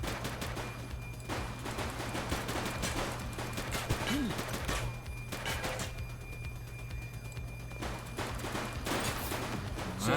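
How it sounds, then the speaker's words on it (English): Police shootout in The Precinct video game, with bursts of gunfire crackling across a steady engine-like drone, irregular volleys spread through the scene and voices shouting beneath them. "Shots fired!"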